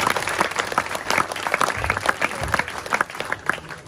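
Audience applause at a Balinese performance at Pura Dalem Maya in Blahbatuh, a dense crowd clapping steadily and loudly for about four seconds.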